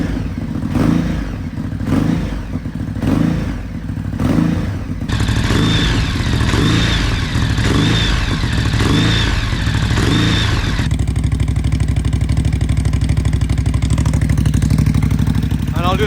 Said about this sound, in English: Let's give it the old standard throttle blips.